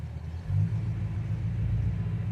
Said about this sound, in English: Really nice idle.